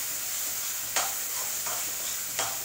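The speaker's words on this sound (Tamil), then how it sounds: "போட்டு நல்லா கொஞ்சம் ஃப்ரை பண்ணுங்க" Boiled vegetables frying in a pan, with a steady broadband sizzle and three sharp stirring scrapes spaced about a second apart, close and fairly loud, with no voices.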